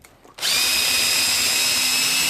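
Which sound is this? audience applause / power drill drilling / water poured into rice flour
power drill drilling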